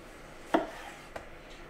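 A knife slices through whole tomatoes, unpeeled, for an oven-baked potato and tomato dish: two short crisp cuts, the first louder, about half a second apart, in a quiet kitchen.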